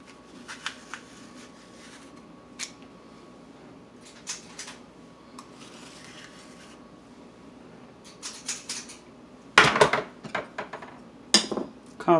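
A tool scrapes and digs at the hollowed center of an apple in scattered close, crisp scratches, ending in a few louder rasping bursts of scooping, with no speech.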